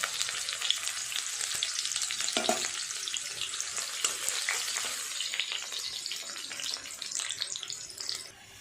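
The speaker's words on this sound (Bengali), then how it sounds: "মাছ ভাজার আগে অল্প একটু পেঁয়াজ বেরেস্তা করে নেব" Sliced onions frying crisp in hot oil in a kadai for birista, a loud continuous hissing sizzle with bursts of crackle and a brief stirring clatter.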